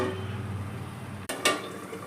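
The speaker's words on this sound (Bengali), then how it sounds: "এবার আমি কড়াইয়ের ঢাকনা বন্ধ করে এবার ফুটতে দেবো।" A lid drops onto a kadai of simmering squash and potato curry, one brief metallic clack after a soft bubbling background, then a short ringing rattle as it settles.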